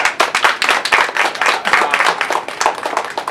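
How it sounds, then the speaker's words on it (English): A crowd applauding steadily at an author event in a bookstore, many hands clapping in a dense, continuous patter for a few seconds, with no voices on top. "A big round of applause for you guys."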